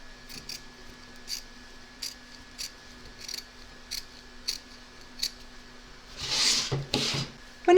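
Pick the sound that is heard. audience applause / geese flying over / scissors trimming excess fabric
scissors trimming excess fabric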